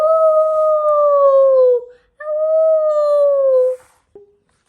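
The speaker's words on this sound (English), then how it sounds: "howls echoed all around." Two long, eerie animal howls, one after another with a short gap, each sliding slightly downward in pitch, clear and close, used as a story sound effect.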